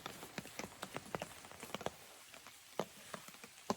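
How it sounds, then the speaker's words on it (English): Rain patters onto a camping tarp over a hammock, with scattered drops tapping irregularly on the fabric. It is fairly quiet and close, with a few sharper, louder hits standing out. "And of course, with the rain on the tarp,"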